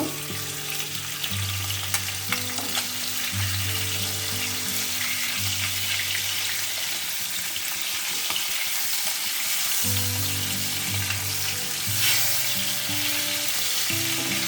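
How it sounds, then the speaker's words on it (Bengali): Pieces of chitol fish fry in hot oil in a pan, a loud, continuous close-up sizzle that runs throughout alongside a low, steady hum. "মাছটা ভেজে নেব"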